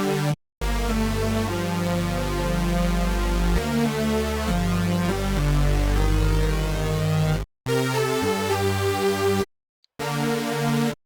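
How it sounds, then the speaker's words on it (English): A synth patch of two saw waves through the Avenger smooth chorus preset plays sustained chords and a moving line, bright and wide, in several bursts with short silent gaps between them. "it kind of sounds like this with two saw waves"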